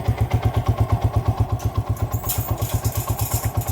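A motorcycle with an aging, low-voltage battery runs close by at a rhythmic, thumping idle, its regular pulses clattering steadily with a slight rise in engine noise partway through.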